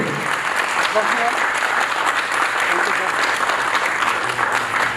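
Loud, sustained applause from a large audience at a cooperative-sector gathering, thick continuous clapping at an even level, with voices faintly audible beneath.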